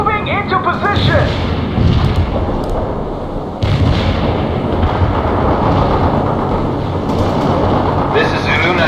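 Mortar strike explosions in the World in Conflict video game, heavy booming blasts and rumbling detonations running continuously, with a sharp new impact partway through, under radio voices.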